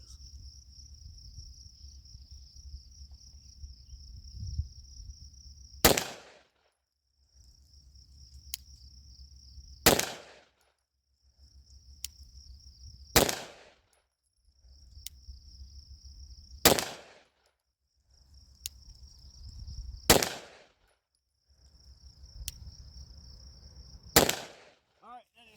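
Gunshots ring out at a shooting range: six sharp, loud single reports spaced a few seconds apart, over a steady high insect-like chirp and quiet gaps between rounds.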